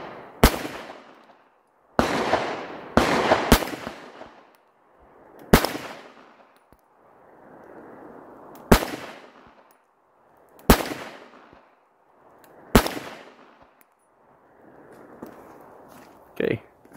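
A Sig Sauer P938 pistol fires roughly eight sharp, loud reports at irregular intervals, each cracking out and then trailing off into a rushing noisy decay between shots.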